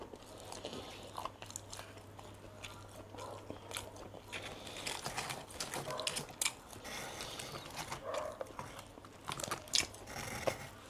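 Someone bites and chews a hot, spicy ham pizza topped with chili, with soft, close crunching and wet chewing in an irregular rhythm and no talking.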